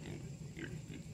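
Pigs kept for home consumption grunt softly and continuously at feeding time on scraps, low snuffling oinks over a steady background hum.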